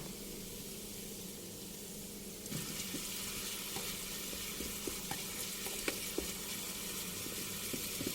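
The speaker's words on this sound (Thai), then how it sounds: "น้ำปลาค่ะหนึ่งช้อนโต๊ะนะคะ ราดลงไปเลยค่ะ" Garlic frying in a pan as a spoonful of fish sauce is poured in, the quiet sizzle jumping louder partway through and staying steady, with a few faint stirring taps.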